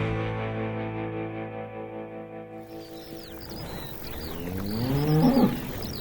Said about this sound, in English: Part 2, cows. Latin name, Bos taurus.